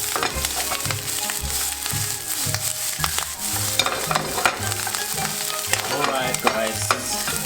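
Japanese fried rice (chahan) seasoned with soy sauce is stir-fried in a pan, giving a steady close sizzle with repeated scraping and stirring strokes over soft background music.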